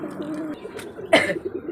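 Pigeons kept at home give a soft, brief cooing call with a louder burst near the end, heard close in a quiet setting.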